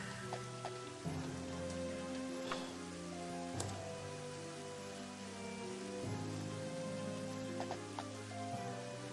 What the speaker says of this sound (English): It's raining, damn it.